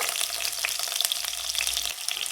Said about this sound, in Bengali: এই পেঁয়াজগুলো বেরেস্তা করে নেব